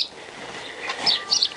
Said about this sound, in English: Go away, dicky bird.